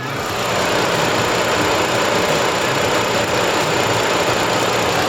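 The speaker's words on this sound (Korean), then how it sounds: "영상으로 엔진 소음 한번 담아보도록 하겠습니다" A gasoline-engined Explorer van idles with its hood open, giving a steady, even mechanical hum and whir close to the microphone for the full length, with no revving and no talking.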